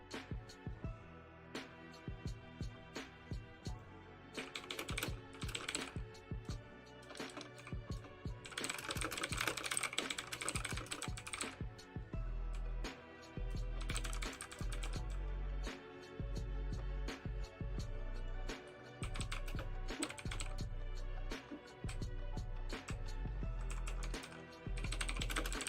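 Keys clatter on a computer keyboard in a long, uneven run of quick taps and mouse-like clicks, close and fairly quiet, with brief pauses between bursts.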